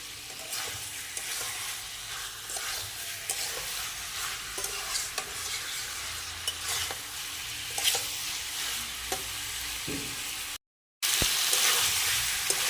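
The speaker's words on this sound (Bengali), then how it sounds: "এটাকে এখন একটু ভালো করে নাড়াচাড়া করে কষাবো।" Cauliflower and potato fry in a pan with a steady soft sizzle while a spoon stirs and scrapes at them in repeated strokes, close up, broken by a brief silence near the end.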